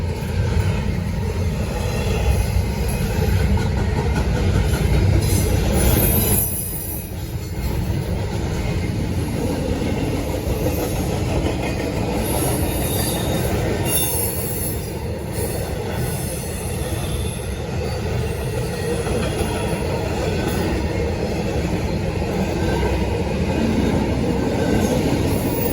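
A long Norfolk Southern freight train rolls past close by, with a continuous heavy rumble under sustained high-pitched wheel squeal and the faint clatter of railcars.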